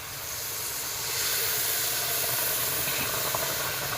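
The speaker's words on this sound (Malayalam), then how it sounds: "റവ വെന്തിട്ടുണ്ട് ഇതിലോട്ട് നമുക്ക് ഒന്നാം പാൽ ഒഴിച്ച് കൊടുക്കാം" First coconut milk poured into cooked semolina for banana kurukku, a steady hissing, splashing pour that swells after the first second and holds evenly, close and moderately loud with no talking.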